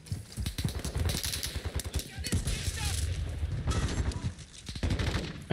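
Rapid SMG bursts in Call of Duty Modern Warfare 2, a dense rattle of close gunfire in quick runs with short pauses between them, while someone talks over the shooting.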